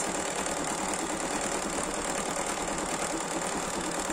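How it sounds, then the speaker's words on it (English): A Bernina 780 sewing machine stitches embroidery with a steady, fast mechanical whir and rapid needle rhythm, even and continuous from start to finish, no voices. "I have not used this machine for embroidery too much yet because I'm still learning it."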